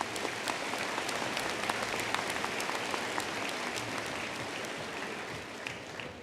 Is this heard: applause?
yes